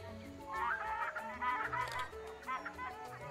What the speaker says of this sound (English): hibiscus plumed dove